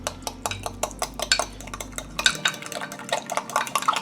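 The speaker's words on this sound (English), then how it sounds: "And then we're just going to mix the egg yolks and the paste." Egg yolks and tomato paste being stirred together in a bowl for tomato pasta dough, a steady run of light scraping clinks from a utensil against the bowl, close and clear with no talking.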